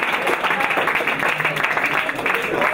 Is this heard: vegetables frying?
no